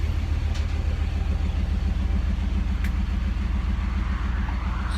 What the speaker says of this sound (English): that's the rev of my car